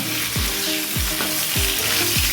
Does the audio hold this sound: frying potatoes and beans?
yes